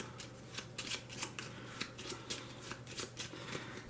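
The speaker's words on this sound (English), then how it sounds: "Now these we're going to just shuffle." Six exit cards for a board game, four stairs-up and two dead ends, are shuffled by hand, giving repeated soft riffling flicks over a steady low hum, close and fairly quiet.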